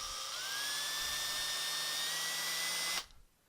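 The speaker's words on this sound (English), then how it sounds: "And then once it's there, slowly drill." Power drill slowly boring a hole into a FireFly hard case, a steady high whine that rises slightly in pitch, runs about three seconds, then cuts off sharply.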